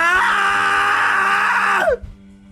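A male character in the Taisho X Alice visual novel game lets out a loud, sustained wolfish scream that holds steady for nearly two seconds, then breaks off with a falling gasp, leaving a faint low hum.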